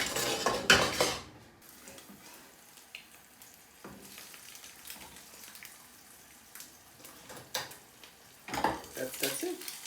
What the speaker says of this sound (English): I will fry an egg because I think that is the best topper for any fried rice